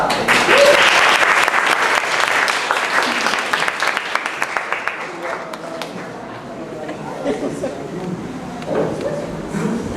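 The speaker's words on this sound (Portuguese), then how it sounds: "uma salva de palmas para vocês, parabéns" An audience at a student mock jury trial breaks into loud applause that tapers off after about six seconds, leaving scattered claps under murmured chatter and voices.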